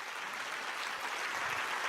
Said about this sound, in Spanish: Déselo fuerte ese aplauso al Señor.